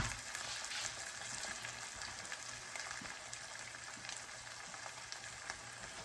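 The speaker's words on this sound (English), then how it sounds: "while our corn is frying up a little bit" Corn with salt pork frying in a pan, a steady soft crackle and sizzle with scattered small pops, fairly quiet and unbroken throughout.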